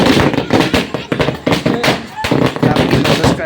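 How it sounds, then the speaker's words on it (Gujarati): Firecrackers bursting at a wedding celebration, a rapid string of loud, sharp cracks and pops repeating throughout, close and dense with brief gaps between volleys. "પેલો સાંભળ્યો ને ફટાકડા ફટફટ ફૂટે"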